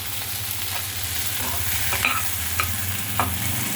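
Shallots and ginger sautéing in a generous amount of oil, giving a steady, close sizzle with a low rumbling bed, and a few faint spatula scrapes breaking through now and then, with no talking.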